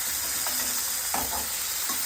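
Fenugreek leaves fry in hot oil with a steady, close sizzle, broken by soft scraping taps as a spoon stirs them in the pan.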